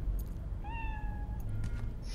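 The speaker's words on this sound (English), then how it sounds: "This cat is just going off." A cat in Cyberpunk 2077 lets out one drawn-out, clear meow at close range, set against a rumbling ambient background with scattered small noises.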